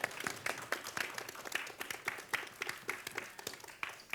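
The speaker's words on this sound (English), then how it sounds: "So can we have a round of applause for Hannah, please?" Scattered audience applause at a live book event awards presentation, a modest group clapping steadily and fairly faintly with sharp individual claps throughout.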